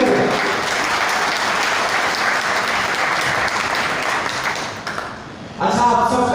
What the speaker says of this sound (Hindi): आप सब अपने लिए एक बार जोरदार तालियां प्रेषित करें।